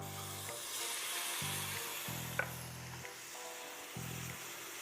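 Artichoke heart quarters hit a hot sauté pan with a steady hissing sizzle, broken by low thumps and brief clatter as they are tossed in, close and moderately loud with no talking.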